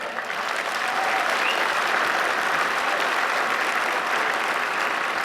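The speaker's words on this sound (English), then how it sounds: "Now, for God's sakes, don't applaud that." Steady, dense audience applause during a political speech on US foreign policy, an even wash of many hands clapping at moderate level with no talk over it.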